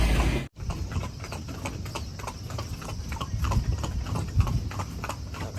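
A horse pulling a carriage through Lampang, Thailand, beside the Wang River clops along in an even, steady rhythm of hoofbeats over low road rumble, close by and moderately loud after a brief cut at the start.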